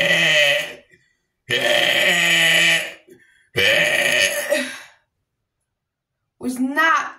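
A person lets out long, loud, close burps in three drawn-out bursts separated by silence, then a shorter gurgly one at the end.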